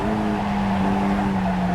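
Mazda MX-5 Cup race car in iRacing trail-braking into a sharp corner at Circuit of the Americas, its engine a steady close drone with a low harmonic tone and faint tire scrub, heard alone.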